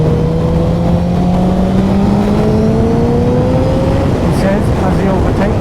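A motorcycle engine revs and climbs in pitch as it overtakes in heavy traffic, loud and close under constant wind rush.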